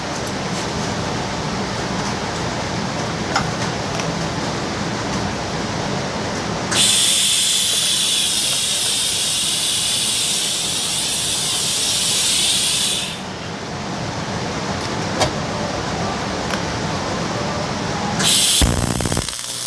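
A welding torch hisses steadily while welding, a broad continuous rush that swells louder and brighter for several seconds in the middle, then drops back to a lower steady hiss before a brief burst near the end.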